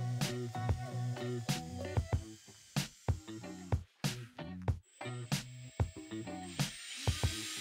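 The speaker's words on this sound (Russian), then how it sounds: "Рассверливаем отверстие прямо на всю длину" A small drill whirs in short repeated bursts, starting and stopping with a rhythmic stutter as it bores lengthwise through a wine cork, close and fairly quiet.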